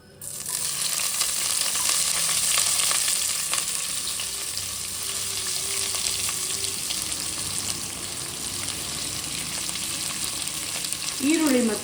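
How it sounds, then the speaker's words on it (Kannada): Onions hit a hot pan and fry with a loud, dense sizzle that gradually settles. A brief clatter comes near the end. "ಈಗ ನೋಡಿ, ಈರುಳ್ಳಿ ಹಾಕೊಳ್ಳೋಣ."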